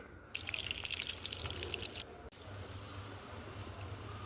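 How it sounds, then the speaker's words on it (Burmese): Duck eggs coated in beaten chicken egg fry in a pan with a steady, close crackling sizzle that holds at a moderate level and pops now and then, with no talking. "ဒါကတော့ကြက်ဥထဲမှာနှစ်ထားတဲ့ဘဲဥတွေကိုမချက်ခင် ကြော်နေတာဖြစ်ပါတယ်ရှင်"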